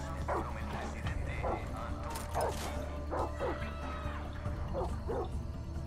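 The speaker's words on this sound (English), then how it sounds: "Dog's onto me." Repeated yapping barks from a dog in the video game Far Cry 6, a quick string of bursts over constant low background noise, with a voice briefly talking amid the barks.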